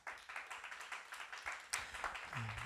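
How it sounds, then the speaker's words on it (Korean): A church youth group at a Korean middle and high school worship service claps in a steady, quiet rhythm, a string of distinct claps that sound somewhat distant, followed by a brief tone at the end. "박수 한번 쳐줍시다"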